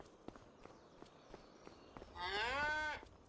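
A cow in a farm cow shed gives one loud, drawn-out moo after a series of soft, scattered thumps and shuffling hoof steps on the shed floor.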